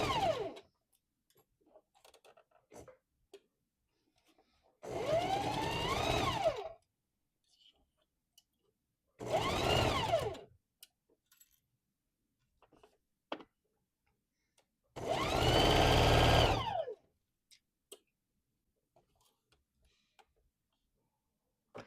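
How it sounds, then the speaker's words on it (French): Sewing machine stitching the first seam of a dress at 2.5 mm stitch length, three separate close bursts of rapid whirring stitching of a second or two each, with quiet handling clicks between. "c'est parti pour notre première couture"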